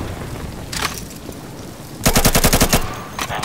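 Automatic gunfire in the video game Insurgency 2: a short burst, then a longer rapid rattle of evenly spaced shots, and a final brief burst, loud with no talk.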